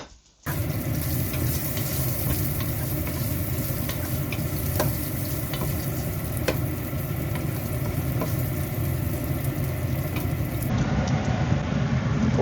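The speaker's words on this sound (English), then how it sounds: "So first of all, I'm gonna put the bacon with the skin as well." Skin-on bacon sizzles and fries in a pot for a lentil and pork stew, a steady, close crackling hiss that continues throughout with occasional small pops and no talk.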